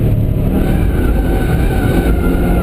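A Subaru Forester S engine revs hard on a race track, a loud and steady mid-pitched drone heard close up from inside the car the whole time.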